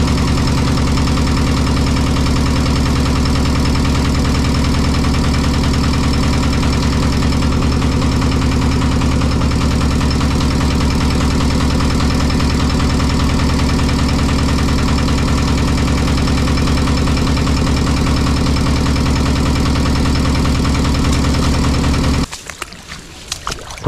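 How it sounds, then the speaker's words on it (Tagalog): A diesel engine idles steadily and loudly up close, a constant low rumbling drone that cuts off abruptly near the end. "Check ko lang yung diesel ng makina natin."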